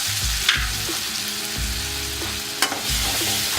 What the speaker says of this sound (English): Now I'm going to add my ginger, garlic and chili paste.